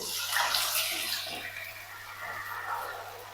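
Boiled dal poured into a pan of fried garlic in ghee, a steady watery slosh and pour that holds through the short stretch at moderate level with no talking.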